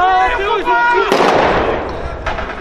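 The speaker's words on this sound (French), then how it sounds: "on eut droit à quelques grenades lacrymogènes et quelques pétards assourdissants" Tear gas grenades and stun firecrackers going off at a street protest in Bordeaux, a sharp loud blast cutting through shouting voices, followed by a fainter report.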